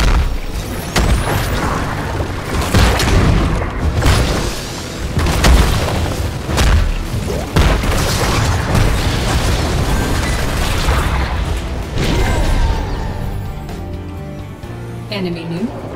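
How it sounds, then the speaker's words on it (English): A fort crumbles in Heroes of the Storm with a heavy, sustained booming explosion that fills the whole stretch, layered with game effects and a brief announcer voice. "Your fort has been destroyed."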